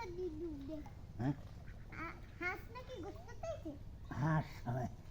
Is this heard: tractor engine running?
no